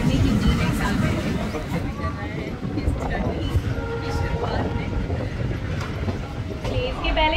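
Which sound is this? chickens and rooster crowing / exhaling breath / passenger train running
passenger train running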